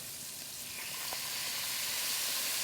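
Chopped onion and green pepper sizzle in hot fat for red beans and rice with andouille sausage, a steady close hiss that swells slightly as it cooks, with no talking.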